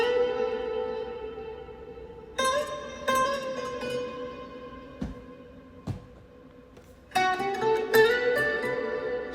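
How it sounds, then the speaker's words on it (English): A slowed, drawn-out musical sample with sustained tones washed in heavy reverb, punctuated by a few sharp hits and swelling chords. "So initially the sample sounds like that, like it was just slowed down."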